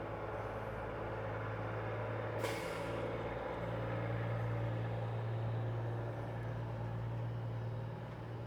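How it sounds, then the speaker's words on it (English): A big truck pulls in at a truck stop, its steady low engine rumble running throughout with a short sharp hiss of air brakes near the start, heard from a middle distance with no one talking. "Here comes another truck in."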